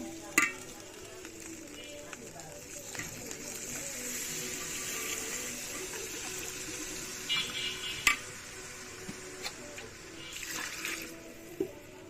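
Water goes into a pot of frying bhuna khichuri, making a soft, hissing gush with scattered clinks and knocks from the pot, fairly faint and close.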